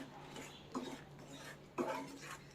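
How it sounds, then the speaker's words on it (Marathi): Chikoo halwa mixture with melted jaggery being stirred in a pan over low heat, two soft scraping strokes of a spoon against the pan, close and quiet, no talking. "तर आपण आता हे हलवून घेऊया बारीक गॅसवरती."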